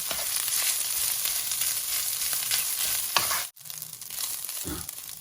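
Rice being stir-fried for fried rice gives a bright, hissing sizzle with scraping of the spatula, then a brief near-silent break before the frying noise resumes more faintly.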